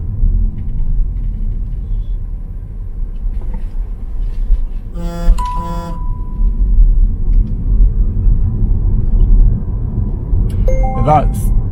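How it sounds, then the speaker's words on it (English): A car running on pure electric power gives a steady low rumble of tire noise on the road throughout, with a brief tonal beep or chime near the middle and another short tone near the end. "This is me now driving on pure electricity, and it's just the sound from the tires that you can hear"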